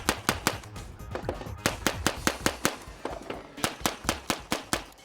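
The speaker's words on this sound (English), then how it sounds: "with a gun falling over and with Jerry shooting too fast on the first guns in the lineup" A world-record shooting attempt fires rapid gunshots down a lineup of guns, sharp cracks in quick bursts of about a dozen shots each, separated by a brief pause, loud and close with no talking.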